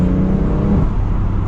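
A BMW F80 M3 CS with a turbocharged engine accelerating from inside the cabin, a loud steady engine roar with a faint whine layered over it.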